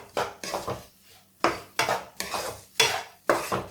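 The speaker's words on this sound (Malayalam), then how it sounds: "ഇത്രയായി കഴിഞ്ഞിട്ട് നമുക്ക് ഒരു പാത്രത്തിലേക്ക് മാറ്റാം." Mixed date pickle being scooped from a pan into a bowl, a series of repeated clinks and scrapes of a metal spoon against the vessel, each sharp and close, with short pauses between strokes.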